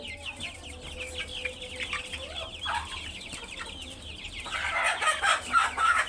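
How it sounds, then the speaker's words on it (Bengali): Chittagong hill chickens of various colours cluck and murmur nearby with a rooster's distant crow, busy barnyard noise building louder toward the end. "বিভিন্ন কালারের মোরগ মুরগি আছে"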